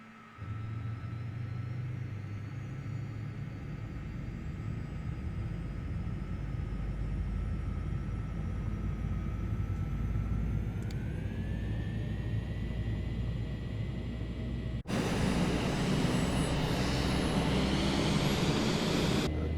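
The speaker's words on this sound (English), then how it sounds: "valve open, ignition on, engine start." Aircraft engine spooling up during startup in Microsoft Flight Simulator 2024, a steady loud rumbling drone with a rising whine partway through, then a sudden louder, rougher roar as the engine catches and runs.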